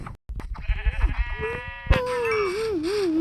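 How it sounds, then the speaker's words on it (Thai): Sheep bleat in a Minecraft survival game, several wavering close bleats in quick succession, loud and clear after a short gap. "เมื่อกี้ผมเห็นแกะด้านข้าง"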